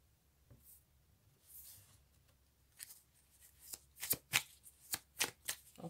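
Tarot cards being shuffled at close range, starting with soft scattered riffles and building to a run of sharp, crisp card snaps near the end, with no voice over them.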